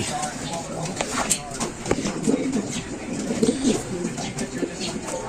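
Racing pigeons coo softly in a loft, a low, murmuring call repeating under steady background noise, with faint scattered bird sounds.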